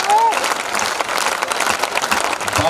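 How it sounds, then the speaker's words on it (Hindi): An audience applauds at a patriotic Hindi poetry recital, with dense, sustained clapping from a large crowd and a voice speaking over it. "दोनों हाथ ऊपर उठाकर जरा देपालपुर की देर तक तालियां बजती रहे"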